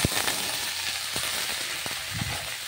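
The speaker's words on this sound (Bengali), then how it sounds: "ভালো করে আমি আলুটা মশলা দিয়ে কষিয়ে নেব।" Potatoes and spices sautéing with turmeric in a pan, a steady soft sizzle with occasional clinks and scrapes of stirring close by, no voices.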